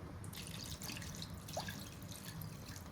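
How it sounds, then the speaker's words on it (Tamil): Water trickling into a pot onto tamarind for Chettinad onion rasam, a soft, continuous pouring and dripping sound, faint and close. "தண்ணி ஒரு அரை டம்ளர் தண்ணி ஊற்றிக்கலாங்க"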